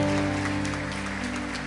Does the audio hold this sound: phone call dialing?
no